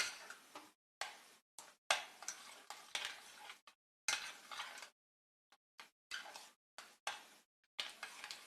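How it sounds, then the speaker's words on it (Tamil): A spoon stirs thick ash gourd halwa in a pan, giving short scraping, sticky strokes in irregular bursts separated by brief silences, close and fairly quiet. "நல்லா அந்த அல்வா பதத்துக்கு வர்ற வரைக்கும் நல்லா கிண்டிகிட்டே இருக்கணும்."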